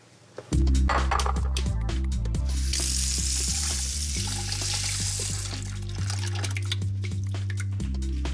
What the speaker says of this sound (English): I'm gonna quickly go to the sink and rinse them off